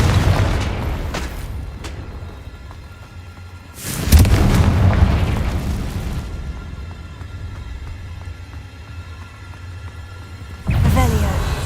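Confringo spells in Hogwarts Legacy go off as booming explosions: one early blast, a big burst near the middle that rumbles away, and another late boom, with ambient game sound in between.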